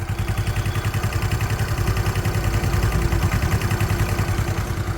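A vehicle engine idles close by with a steady, rhythmic low chugging pulse, constant and unbroken throughout.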